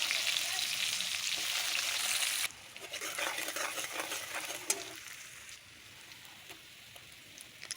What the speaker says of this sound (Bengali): এখন সম্পূর্ণ পেঁয়াজটা লাল লাল করে ভাজা হয়ে গেছে।